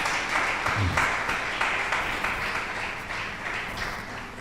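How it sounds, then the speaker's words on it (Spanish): A church congregation applauding, a dense, steady wash of many hands clapping that fades slightly toward the end. "dele un aplauso al Cristo de la gloria"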